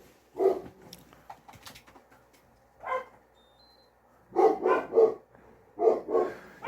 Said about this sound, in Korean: 주니어 짖는 소리가 좀 심각해지면 다 나갑니다.